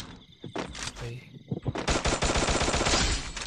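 Rapid gunfire from a multiplayer shooter video game, a dense continuous burst of automatic shots dominating the second half, preceded by scattered shots and brief voices.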